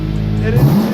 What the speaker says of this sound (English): The car you hear in the background is a car I'm going to do a review of.